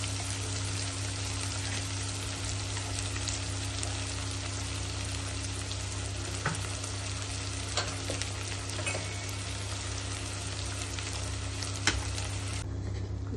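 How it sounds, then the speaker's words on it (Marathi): Ghee tempering with cumin seeds and a pinch of asafoetida for urad dal, a steady, dense crackling sizzle that runs without a break, with occasional stirring scrapes and a low electrical hum underneath. "तूप, जिरं टाकायचं बस, हिंग थोडा आणि फोडणी द्यायची"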